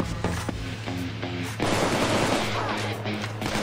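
An AK rifle fires in Payday 2, with rapid automatic bursts in quick succession. The shots are loud and close, with a steady game background hum underneath.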